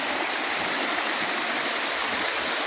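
A stream of clean water flows in the countryside, a loud, constant rushing wash with no breaks, close by and alone.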